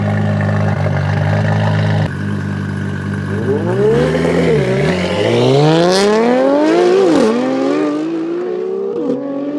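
A 1200-horsepower custom carbon Nissan GTR from the Alpha tuner makes a warm-up run, its loud engine holding a steady idle-like drone before revving up in rising, sweeping pulls with brief gear-change dips, close and continuous.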